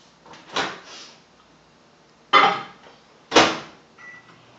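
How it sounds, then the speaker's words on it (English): Three sharp clunks of a microwave oven door and its buttons come from nearby. The last thud leads into a faint, steady hum as the oven starts running. "We're going to pop that in the microwave for 4 minutes."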